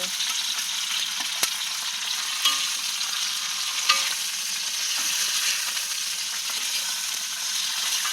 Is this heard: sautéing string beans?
yes